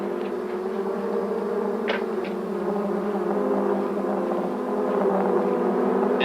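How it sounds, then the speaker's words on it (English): A swarm of bees droning in a steady, dense buzz that holds for several seconds at moderate level, with a couple of faint brief clicks and no voices. "Be careful of these bees."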